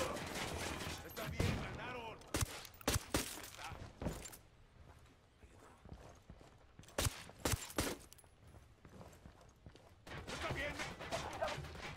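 Pistol gunfire in close quarters during a Ghost Recon Wildlands firefight: sharp, loud shots in scattered bursts and doubles, with quieter gaps between them and some voice-like sound in the background.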